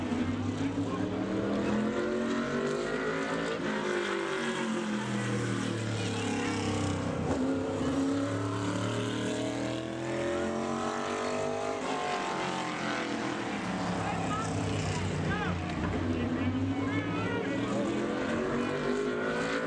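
A modified race car laps Bowman Gray Stadium during qualifying, its engine note rising and falling as it circles the track, loud and continuous throughout.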